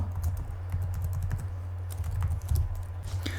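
Keys clatter in quick irregular clicks as a password goes into a Windows Server 2019 remote desktop login box, steady throughout over a low constant hum.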